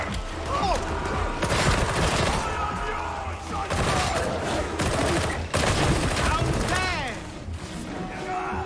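Dense gunfire in Warhammer 40k: Darktide, rapid bursts and repeated shots crackling loudly and almost continuously, with brief lulls between volleys, heard up close with no talking.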